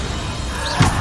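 Bombarda spell blast in Hogwarts Legacy, a short single thumping impact with a bright swooshing burst, close and loud over a low ambient rumble.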